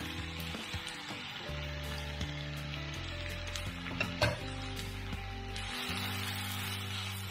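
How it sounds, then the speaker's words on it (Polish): Chopped onion and carrot sizzle steadily in hot oil in a pan, a continuous close crackling fry with a few louder pops and a low hum underneath, no voices. "Wrzucamy na rozgrzany olej naszą cebulę oraz marchewkę."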